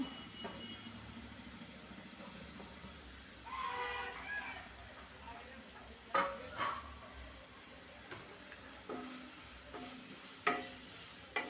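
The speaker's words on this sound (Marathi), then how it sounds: "आणि इथे टाकते किसलेले गाजर आणि तुपामध्ये छान असे भाजून घ्यायचे।" Grated carrot roasting in ghee in a kadhai is stirred, giving a soft frying hiss with scattered scrapes and clinks of the spoon against the pan, close by and fairly quiet.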